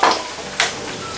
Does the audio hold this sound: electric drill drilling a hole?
no